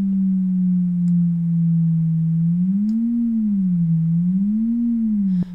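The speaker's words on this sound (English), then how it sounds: "So it's modulating the pitch of our sine wave here" A synthesizer sine wave with its pitch slowly swept up and down by an LFO at 0.6 Hz, a smooth steady wobbling tone playing alone and ending with a brief click.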